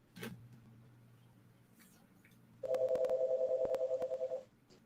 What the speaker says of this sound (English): It's never rang in this office. Not one time, and now it's rang twice.